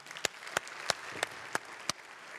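Six sharp, evenly spaced claps ring out one at a time at an SVP Lucerne anniversary celebration in the KKL, welcoming National Councillor Franz Grüter. The clapping is slow and sparse rather than a full crowd ovation.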